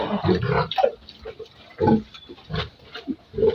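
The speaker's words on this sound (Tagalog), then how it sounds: "Itong isang inang baboy ko is napakalaki ito." A large sow grunts close by in a string of short, irregular snorts and oinks with brief pauses between them.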